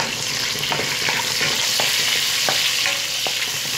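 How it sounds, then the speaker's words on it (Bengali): Two dried chilies frying in hot oil for a vegetable dish, a steady close sizzle with light scraping stirs of a spoon through the pan, no talking. "আমি দুইটা শুকনা মরিচ ছেড়ে দিলাম"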